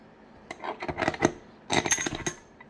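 A metal rod, a transmission gear and a washer are handled together, giving two close clusters of metallic clinks and clatters separated by a brief pause.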